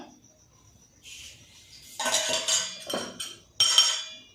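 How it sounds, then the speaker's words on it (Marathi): Knife cutting through a soft pav bread roll on a plate, several short close scraping and clinking bursts separated by brief pauses, with no talk. "आता हे पाव आपण कापून घ्यायचं."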